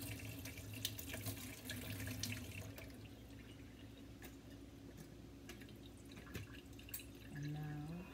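A kitchen tap runs while a milk container is washed out under it, giving a soft, steady stream of water with occasional drips and clatters from the container, fairly faint and with no voices.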